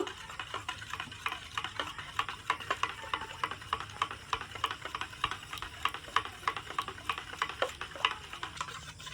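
Pitha batter with a little white oil being stirred briskly in a bowl, a fast, regular clicking and scraping rhythm repeating close up and continuously, with no talking.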